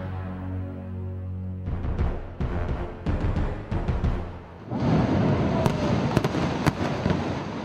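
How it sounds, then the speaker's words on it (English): Explosive demolition of a derelict building in an urban renewal area: a low rumble gives way to a series of sharp charges going off, then a broad, heavy roar of collapse with scattered cracks as debris falls, loud and filling the space. "Dust settles on the successful demolition of a derelict building to make way for urban renewal."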